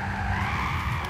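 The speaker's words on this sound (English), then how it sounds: "a bit of handbrake going on there" Tires skid under the handbrake in Gran Turismo 6, a sustained squealing screech over a droning race-car engine, steady and close throughout.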